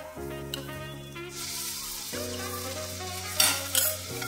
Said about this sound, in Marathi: आता त्याच्यामध्ये आपल्याला आलं लसणाची पेस्ट घालायची आहे।